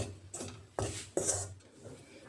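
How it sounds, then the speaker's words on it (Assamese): Gram flour being fried in a wok for Assamese besan laddoo, heard as a few scraping stirs and clinks of a spatula against the pan, close and moderately loud, with no talk. "কেৰাহীখনতে মই আকৌ এই বেচনখিনিও ভাজি ল'ম"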